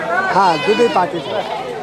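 A close goat bleat, wavering and short, followed by a second brief cry, with voices in the background.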